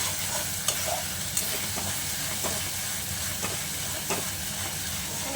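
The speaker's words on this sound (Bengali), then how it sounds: "এই ধনে পাতাটা দিয়ে নাড়াবো" Lote fish jhuro being stirred in a frying pan with coriander leaves, a steady close sizzle of oil broken by a few soft spatula scrapes, with no talk.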